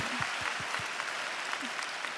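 A church congregation at a Bible recitation contest applauds a contestant in steady, dense applause that fills the room, with a few low sounds underneath.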